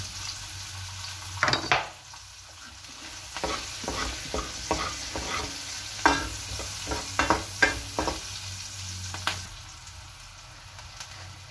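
Onion, garlic and pepper fry in a pan for pork liver higado, a low steady sizzle broken by intermittent stirring scrapes and light utensil clinks, close by with no voices.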